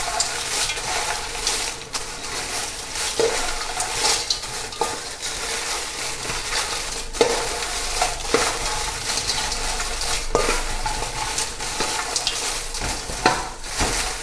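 Dried chillies and whole spices dry-roasted in a pan for homemade South Indian sambar powder, with continuous dry rattling and scraping as a stick or spoon stirs them, dense and close throughout with periodic sharper strokes.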